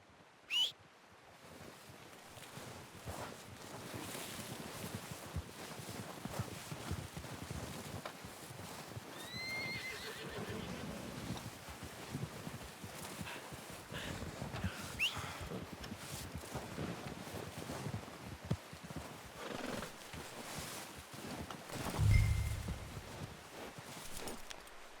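A horse whinnies a few times over steady clip-clopping hooves in the video game Red Dead Redemption 2, with wind rushing in the background and a louder thump near the end.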